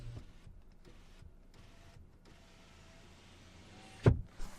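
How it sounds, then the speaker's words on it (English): The driver's power window on a 2022 Chevrolet Equinox runs on one-touch, with a faint motor whir heard close inside the cabin, ending in a sharp thunk as the glass stops, followed by a smaller click. "Only one touch up and down for the driver's window."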